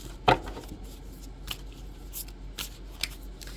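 Tarot cards are shuffled by hand nearby, a sharp riffle burst followed by softer scattered flicks and slides of the deck in a quiet room.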